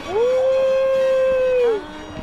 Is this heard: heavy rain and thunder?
no